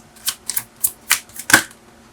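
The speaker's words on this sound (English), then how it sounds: "One more shuffle." Tarot cards riffled and shuffled in five short, crisp bursts at an even rhythm, close by and fairly loud, with no talking.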